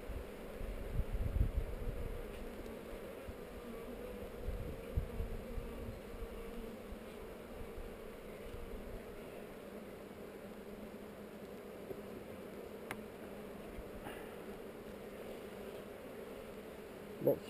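A colony of honeybees hums steadily around their hive on heather, a soft continuous buzz with occasional individual bees droning closer, and faint voices now and then.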